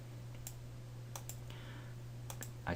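A computer mouse clicks in quick pairs, sharp and close, in a quiet room while a network simulation is set up on a PC, with a faint steady hum beneath.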